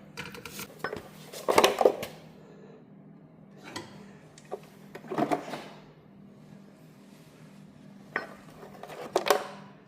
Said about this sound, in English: That sure sounds like there's a lot of shrapnel in the bottom of that pan.